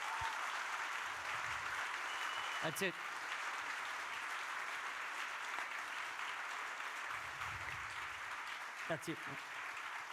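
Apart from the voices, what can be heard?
audience applause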